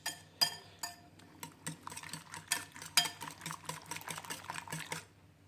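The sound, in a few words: mixing omelette egg mixture in a bowl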